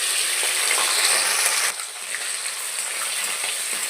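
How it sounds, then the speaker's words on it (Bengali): Prawns fry in hot oil with dried chilies, cumin and bay leaves, giving a close, steady crackling sizzle throughout with one small knock partway. "চিংড়ি মাছটা একটু ভাজা করে নেব।"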